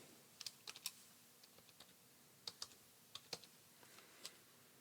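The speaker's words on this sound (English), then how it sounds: "we're just going to click and we're going to type the word welcome." Someone types a short word on a computer keyboard: a quick series of light, close key clicks in two small bursts with a pause between, quiet overall against faint room hiss.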